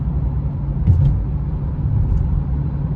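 A Citroen C3 fitted with a BMW engine driving in Istanbul traffic, heard from inside as a steady low engine and road rumble with a slight swell partway through and no talking.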